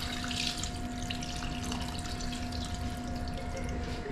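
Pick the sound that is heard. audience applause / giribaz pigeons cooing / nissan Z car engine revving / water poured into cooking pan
water poured into cooking pan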